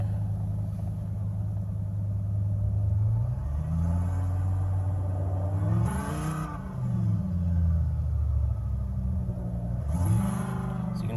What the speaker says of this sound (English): rev the car's engine here